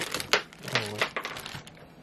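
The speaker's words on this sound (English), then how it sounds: "Alright, so this is the bingo balls." Heavy, marble-like bingo balls from a bingo game set clack and rattle against each other as they are handled, a close, loud burst of uneven clicks and knocks.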